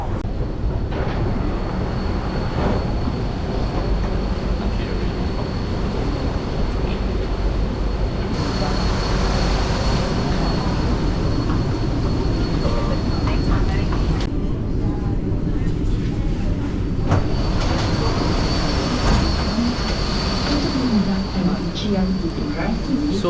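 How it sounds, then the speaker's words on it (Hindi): A metro train pulls into Chinatown station in Singapore, a loud sustained rumble and whine filling the platform, rising and shifting as the carriages roll in and slow, with station ambience around it. "I am just waiting for the train to come"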